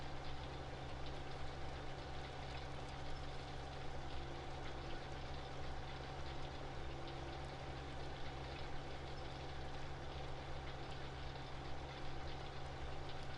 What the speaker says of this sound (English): I do like this Case Optimum tractor.